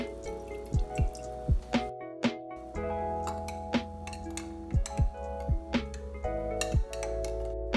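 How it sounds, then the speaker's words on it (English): Soju poured from a bottle over an ice ball in a glass: a run of quick liquid glugs and drips with light glassy clinks, close and fairly quiet, over a steady soft background. "Then pouring 150 ml of soju."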